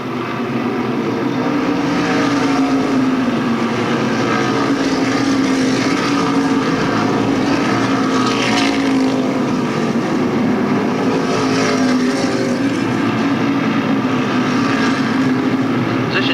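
SK Modified race cars roar around Stafford Speedway in 1992, a dense steady engine drone filling the whole stretch, loud and continuous with rising and falling passes and no talk.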